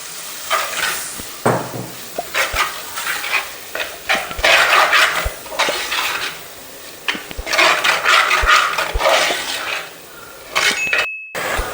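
Kashmiri chili powder frying in hot oil in a pan, a steady close sizzle broken by repeated clinks and scrapes of a spoon stirring against the metal.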